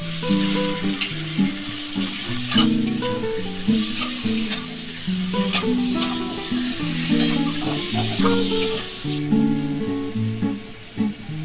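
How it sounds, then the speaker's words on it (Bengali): Ginger and green chilli paste sizzles and crackles loudly in a hot pan with steady frying hiss, broken up by scraping and stirring strokes throughout. "এখন এখানে আদা বাটা কাঁচা লঙ্কা বাটাটা দিয়ে দিলাম"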